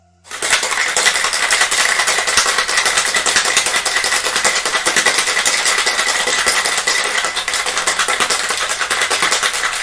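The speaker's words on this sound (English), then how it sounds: "Now we're going to give that a rather good shake." A cocktail shaker holding a witch's brew cocktail is shaken hard and fast, giving a loud, close, continuous rattle of ice that lasts about ten seconds with no pauses.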